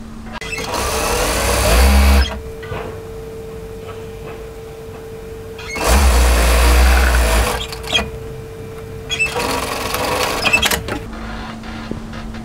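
Sewing machine stitches a sleeve seam on a cropped knit military jacket in two bursts of fast whirring, each about two seconds long, separated by quieter handling and small clicks.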